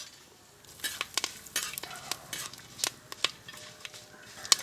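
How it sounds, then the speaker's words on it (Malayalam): Whole spices such as star anise, cloves, cardamom, mace, bay leaves and cinnamon being dry-roasted in a pan, with light rattling and metallic clinks of stirring in irregular taps, fairly quiet, with no talking. "തക്കോലം, ഗ്രാമ്പു, ഏലക്ക, ജാതിപത്രി ഇതെല്ലാം കൂടെ ഇട്ട് ഒന്ന് വറുത്തെടുക്കുക."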